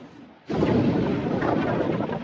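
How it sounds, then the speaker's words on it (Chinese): A huge explosion sound effect bursts in suddenly after a quiet moment, then rumbles on as a loud, sustained, rolling roar with no talking. "如此近距离的大规模爆炸，让大陆整体都在颤抖"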